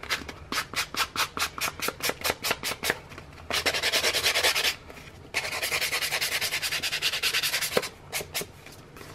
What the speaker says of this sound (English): Just to make it look like the edges have gotten scuffed. So this is just like a nail buffer.